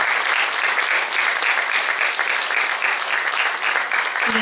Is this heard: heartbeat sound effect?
no